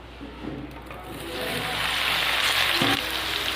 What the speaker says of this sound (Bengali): সয়াবিনটাকেও ভালো করে ভেজে নেব।